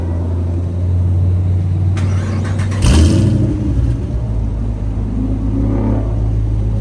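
A 5.7-litre V8 car engine, close and loud, giving a brief surge partway through before settling into a deep, steady rumbling idle that continues to the end.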